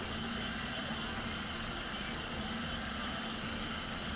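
A tractor in Farming Simulator 19 runs under load, its engine giving a steady, dense drone with no breaks or changes throughout, fairly quiet and alone.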